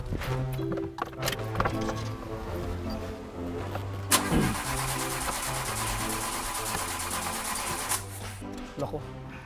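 A motorcycle engine with a faulty starter cranks and sputters with an uneven, struggling start, then catches and runs steadily while people talk over it nearby.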